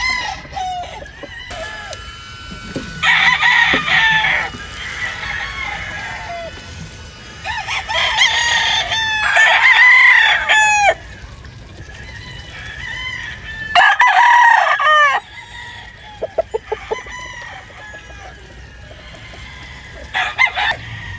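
Gilmore gamefowl roosters on a farm, loud and close, crowing in several long repeated bursts with clucking between them and other birds audible in the background.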